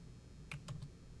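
Three quick, quiet key presses on a computer keyboard, close together in a short burst over a faint background, as a Ctrl+F shortcut is typed.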